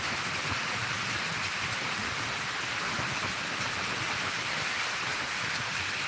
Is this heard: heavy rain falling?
yes